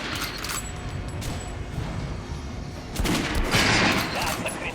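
Gunshots strike an armored target in the Metro Last Light video game as a continuous rattle of shots, growing louder and denser toward the end.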